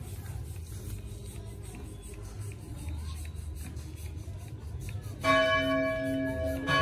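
Church bells ring out at the Hai Giáp parish church in Vietnam during Christmas, clear, resonant strikes coming in late over a background of crowd murmur and distant traffic.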